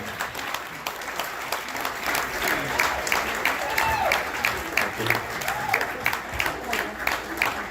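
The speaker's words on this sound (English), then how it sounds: "Round of applause." An audience at a jazz concert breaks into a round of applause for an honoree, a loud, sustained patter of many clapping hands with a few voices mixed in, rising and falling slightly over several seconds.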